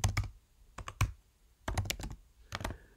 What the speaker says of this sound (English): So I'm going to type in Docker tag